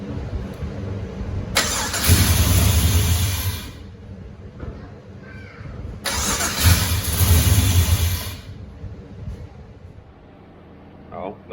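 A Holden HQ fitted with a swapped LS1 V8 cranks and catches on the first try, two loud bursts of engine noise with idle between, and a voice speaks briefly.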